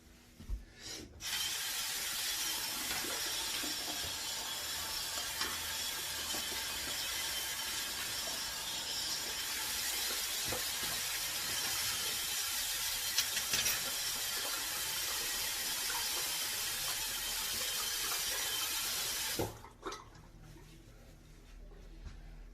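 Water runs steadily for about twenty seconds as hair under a wave cap is wetted, making a broad, continuous hissing spray that starts and stops abruptly.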